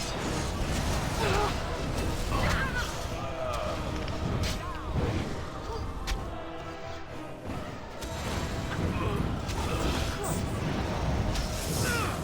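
Dense fantasy battle effects from Dragon Age: Origins, with spell-casting whooshes, crashes and impacts layered over one another, loud and continuous across the whole stretch.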